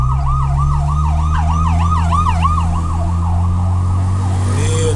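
An ambulance siren wails loudly and close in a steady up-and-down yelp, heard from inside a Porsche Panamera over a low engine hum, with no talking.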